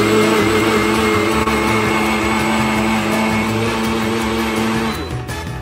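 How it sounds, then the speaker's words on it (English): A loud, steady blender whirs continuously at high speed blending a milkshake, then winds down near the end. "cover the jar and lock it into the blender"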